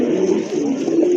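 Pigeons for sale at a market, a hen among them, cooing in a close, steady low murmur that runs unbroken through the short moment.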